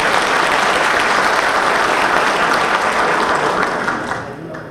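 Strong, sustained applause from a crowd at a political party support rally, a dense wash of clapping at full volume that holds steady and then fades out near the end.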